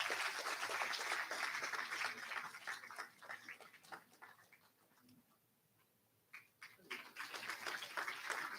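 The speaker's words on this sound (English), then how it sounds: "I request you all to give a huge round of applause." An audience at a foundation day celebration at IIM Sambalpur applauds in dense, close clapping that thins and fades to near silence, then resumes with renewed clapping.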